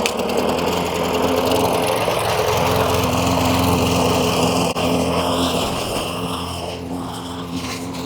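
A lawn mower cuts a backyard lawn on a hot Florida day, its engine droning loud and close and steady throughout, easing slightly toward the end, with no talking.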